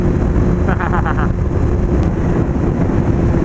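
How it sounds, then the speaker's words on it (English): Steady, heavy wind buffeting across the microphone while riding a motorcycle on a highway near big trucks, a continuous low roar with a brief burst of tonal sound partway through. "Oh damn, it's so windy."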